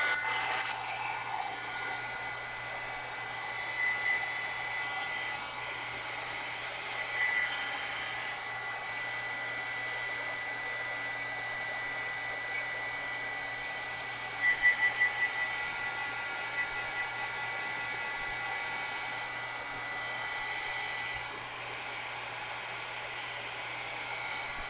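A hair dryer runs steadily for the whole stretch, a continuous airy whoosh with a low electrical hum, blowing on wet red and teal paint on a mixed media canvas. A few brief louder bumps break the drone.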